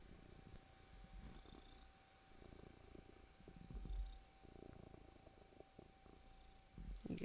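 A cat purrs softly and continuously at close range, a faint, steady rumbling drone with gentle breathing pulses in an otherwise quiet room.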